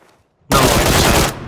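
A single loud burst of automatic gunfire in a video game, close and lasting under a second, cuts in after near silence and stops abruptly.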